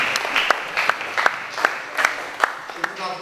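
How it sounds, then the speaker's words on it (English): Audience at a live talk event applauding, a steady patter of clapping with several sharp hand claps standing out, moderately loud and close. "Give me a round of applause"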